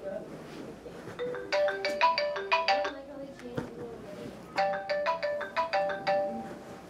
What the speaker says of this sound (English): when the alarm goes off in the morning